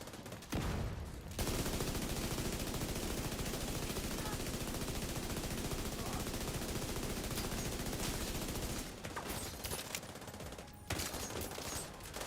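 Sustained automatic gunfire rattles almost nonstop in the video game The Division 2, loud and dense, briefly easing toward the end before resuming.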